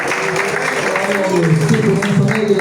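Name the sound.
church congregation clapping to welcome the pastor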